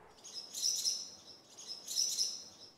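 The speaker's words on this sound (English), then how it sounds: "The chirping of birds is the only sound coming these days from under the stands at Oakland Field" Birds chirp from under the stands of an old stadium's crumbling bleachers, at a sports field. Two bursts of bright, rapid tweeting come about a second apart, moderately close, with no talk.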